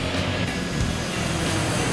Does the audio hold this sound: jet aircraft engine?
yes